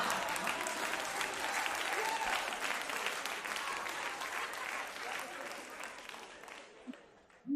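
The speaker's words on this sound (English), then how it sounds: "You're not used to people cheering for you?" An audience applauds and cheers for a guest, dense and steady for several seconds before it thins out and fades away.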